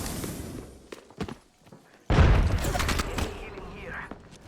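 A frag grenade blast in an online shooter game: a sudden heavy boom midway that rolls into a rumbling, crackling tail, preceded by scattered thumps and gunfire, with a voice calling out over the action.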